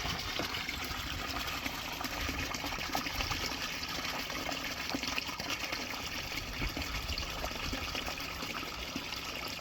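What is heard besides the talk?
koi pond water being pumped away to the drain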